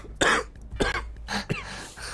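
Several distinct coughs, about three or four sharp bursts spaced unevenly over two seconds, close and fairly loud, heard during a gaming session with no talk over them.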